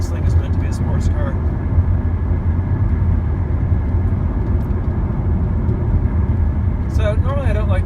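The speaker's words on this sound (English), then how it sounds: "I'm in my little SLK here, which is noisier and a little bit rougher riding than the C280" Steady road rumble and engine drone fill the cabin of a small Mercedes SLK sports car on the move, a noisy, rough-riding interior with constant low roar throughout.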